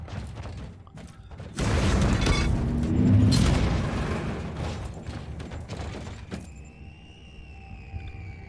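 Rocket ability in the Warhammer 40,000: Inquisitor – Martyr video game launches and explodes with a loud roaring blast that swells, holds, then crackles away into rumbling debris and a fading tonal hum.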